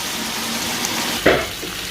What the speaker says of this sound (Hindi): तकरीबन जी इसको 15 मिनट हम लोग अच्छे से भूनेंगे।